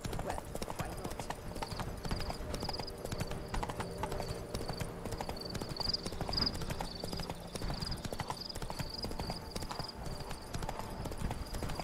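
Roach, the horse in The Witcher 3, trots along with a steady, close clip-clop of hooves and the occasional whinny, while a person talks over the sound.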